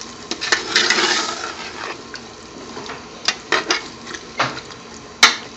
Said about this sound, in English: now we're going to tip the vinegar in. White vinegar. And then give it a good stir.